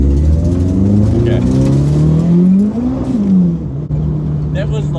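A 400 bhp street-legal Toyota AE92 race car engine idles loudly up close, then rises and falls in pitch with a blip of throttle, and people talk over it.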